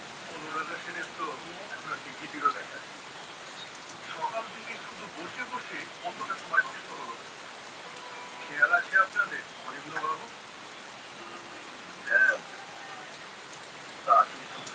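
Heavy downpour on a village road near a fairground, a constant broad rain hiss running the whole length while people talk intermittently over it and a few sharp chirps cut through.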